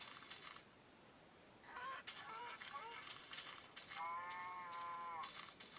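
A cow moos in the Minecraft Pocket Edition video game, a drawn-out lowing heard alongside someone talking over a quiet background.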